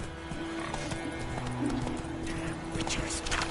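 Roach the horse galloping in The Witcher 3, a steady run of clip-clop hoofbeats with a neigh, close and prominent, with someone talking over it.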